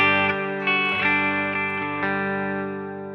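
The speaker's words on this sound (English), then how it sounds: "here's the guitar just running straight into the amp" Hello Kitty electric guitar played clean straight into the amp, a few sustained chords struck in succession, ringing and slowly fading, close and alone without any voices.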